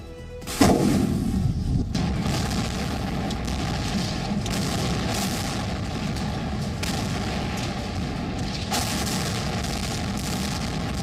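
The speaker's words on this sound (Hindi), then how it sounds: "एक के बाद एक कर रूस ने इस शहर पर कई मिसाइल दागे।" A Russian missile strike hits the city of Dnipro, Ukraine, with a heavy blast near the start followed by a sustained rumbling roar and further distant booms.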